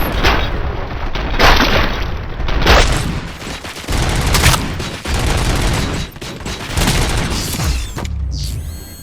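Gunfire in the video game RoboCop Rogue City, loud sustained bursts of automatic shots and booming impacts filling most of the clip, with brief dips between volleys and little speech.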